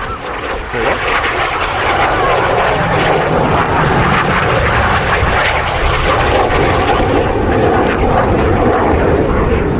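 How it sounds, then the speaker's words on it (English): Red Arrows display jets flying past at an air show, a loud, broad engine roar that swells and stays heavy throughout, while a commentator talks over it on a public address system. "As the synchro pair turn hard for the Cyclone."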